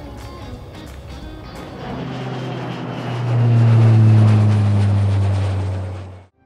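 Aircraft engine drone in the racing game Forza Horizon 4, a steady low hum that swells louder and nearer midway, holds, then cuts off abruptly at the end.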